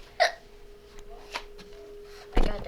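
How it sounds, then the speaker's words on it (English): A child's hiccups pop out as sharp, brief bursts, one near the start, a softer one mid-way and a louder one at the end, close by against a quiet room hum. "I got the hiccups on it."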